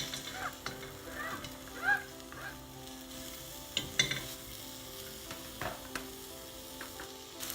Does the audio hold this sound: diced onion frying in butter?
yes